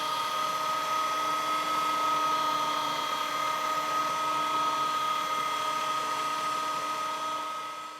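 A meat grinder drones at a steady pitch while cold beef passes through for a finer second grind for burgers, an even motor whine throughout that tapers slightly at the end.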